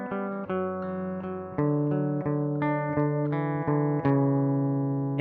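Clean electric guitar played through a Roland Jazz Chorus amp model on a Quad Cortex, tuned to drop B, with a steady series of ringing chords and notes that sustain and overlap, played alone and close.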